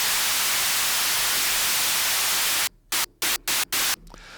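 Hiss-like synthesized noise from a DRC software synth, shaped by EQ and saturation, holds steady and loud, then chops into five short rhythmic bursts before dropping away.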